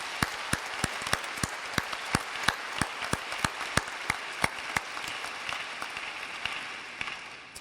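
A graduation audience applauds in a broad, even wash of clapping, with one nearby pair of hands striking a sharp, regular beat above the crowd before it fades out.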